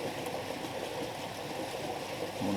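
Water being pumped into a tank: a steady, continuous rushing and gurgling flow, moderately loud and close, with no speech over it.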